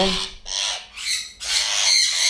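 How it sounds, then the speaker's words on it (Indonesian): An untamed, panicking hook-billed parrot gives three harsh, loud, close squawks in quick succession while being handled, with brief gaps between them and no talk. "burung nggak pernah dihandle walaupun pelihara dari baby, dia pasti galak kayak gini, panik"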